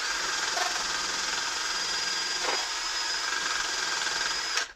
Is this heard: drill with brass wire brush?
yes